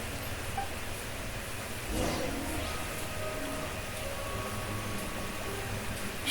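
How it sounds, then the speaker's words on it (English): Rain falls in the video game Genshin Impact as a continuous, even hiss of drops, with a brief louder swell partway through and no clear gaps. "It's raining!"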